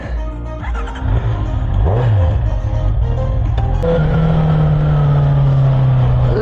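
A motorcycle engine revs and accelerates loudly and steadily, its pitch climbing and then holding a sustained drone as the bike pulls away, with a brief rising whine partway through and road noise throughout.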